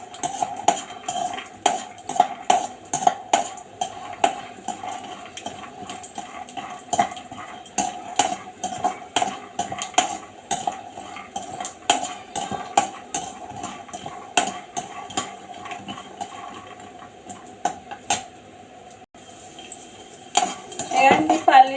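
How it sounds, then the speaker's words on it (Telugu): Peanuts frying in a pan, stirred with a metal utensil at night in a home kitchen: repeated clinks and scrapes of metal on metal in an irregular rhythm over a faint background hum. "ఏమండి, పల్లీలు వేగిపోయాయి, తీసేసుకుందాము."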